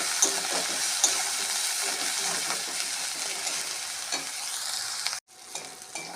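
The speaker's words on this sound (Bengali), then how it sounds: "পরিমাণ মতন হলুদ পরিমাণ মতন নুন দিয়ে মশলাটাকে ভালো করে ভেজে নিতে হবে" Spice paste seasoned with turmeric and salt fries in a pan for lentil paturi, a steady close sizzle with scraping stir strokes, cut by a brief gap near the end before the frying resumes.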